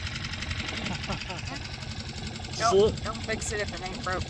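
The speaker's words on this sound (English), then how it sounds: "this little dinghy engine" A small outboard engine on a dinghy drones at a steady, fairly quiet level beneath continuous nearby talking, with a short louder surge partway through.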